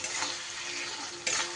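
Spice paste sizzles in a pan as it is stirred, a soft continuous frying hiss with brief scraping swells, quiet and close with no voices.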